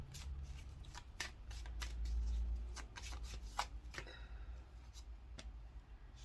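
Oracle cards are drawn and shuffled from a deck during a card reading, giving soft papery flicks and slides in an irregular run, close and quiet over a low hum.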